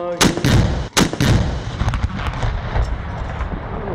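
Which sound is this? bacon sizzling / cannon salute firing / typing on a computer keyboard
cannon salute firing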